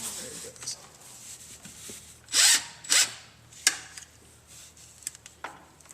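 Power tool spinning on the 17 mm transmission drain plug of a 2008 Subaru Outback during a fluid change, a few short, sharp whirring bursts close by with a clunk between them, over a faint low hum and some talk.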